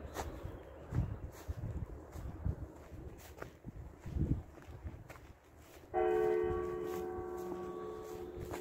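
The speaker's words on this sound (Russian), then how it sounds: "видимо, служба началась. Колокола бьет." A church bell rings for a service in Kirovsk, its tones sustained and fading after the strike, heard outdoors near an old railway line over footsteps and background noise.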